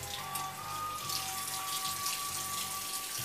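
Cold tap water runs steadily over a vinyl record during cleaning, making a continuous splashing patter from close by with no one speaking.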